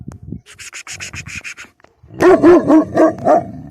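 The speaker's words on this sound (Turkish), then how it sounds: "Köyümüzün de köpeklerin sesi geliyor." Village dogs bark repeatedly in a steady series at night, loud and near, following a stretch of rapid rubbing or scraping sounds.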